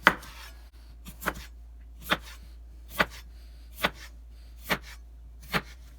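A knife cuts a washed potato into quarter-inch slices on a board, eight crisp chops at a steady pace roughly every 0.8 seconds, close and clear with no talk.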